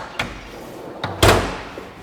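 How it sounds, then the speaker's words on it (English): The top lid of a steel toolbox closing, giving two light knocks and then a louder metallic slam with a short ringing decay, close and in a quiet space. "So when you open up this top box lid, you then gain access to the drawers."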